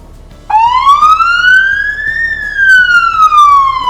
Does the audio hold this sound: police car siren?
yes